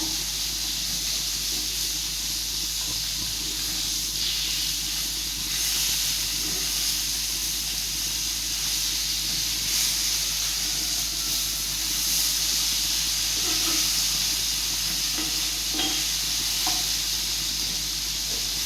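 Fish frying in oil in a pan at home, a loud, constant sizzle and hiss with brief crackles and stirring noises, no talking.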